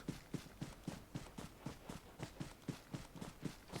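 Rapid footsteps from the PUBG Mobile video game on the Miramar map, a steady run of quick, evenly spaced thuds coming in from the right, fairly close and clear with no talking over them.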